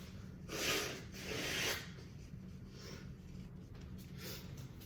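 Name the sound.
person blowing their nose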